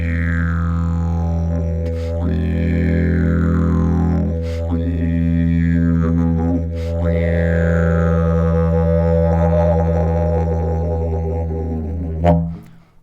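A didgeridoo drone runs continuously while the player's voice rises and falls through different registers inside it, giving repeated sweeping wah-like shifts in tone over the low buzz, ending with a sharp burst.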